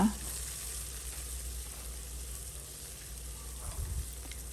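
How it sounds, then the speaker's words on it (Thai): Onions sizzle in a pan while being stir-fried for a milk tofu biryani, with a steady close frying hiss and a few stirring scrapes near the end. "ผัด ให้หอมแขกสุก เลยค่ะ"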